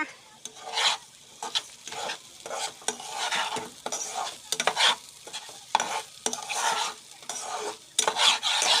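A bay leaf fries in hot oil in a pot while being stirred for pulao, with soft sizzling under repeated scraping strokes of a utensil against the pot. The sound is close and steady, and no one speaks.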